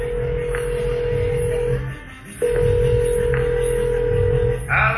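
Telephone call tones sound loud and close, a long steady beep that breaks briefly and resumes, ending in a short burst of other tones.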